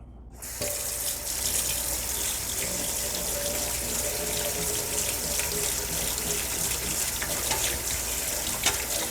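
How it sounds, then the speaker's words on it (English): Steady tap water runs into a sink while a spoon and scraper are washed after soap making, a continuous close hiss with faint clinks, no talk. "I'm gonna wash off the spoon and the scraper here a little bit for you."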